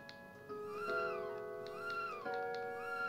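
A synthesized cat meows in the video game Chrono Trigger: two or three clear, rising-and-falling electronic mews repeat at an even pace over soft background music.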